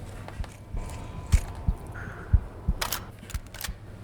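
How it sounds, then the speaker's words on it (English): A player's heartbeat in the Onward VR shooter game, low dull thumps in a paired beat repeating at a steady pace beneath faint background game noise, with no voices. "if you listen, you can hear my heartbeat"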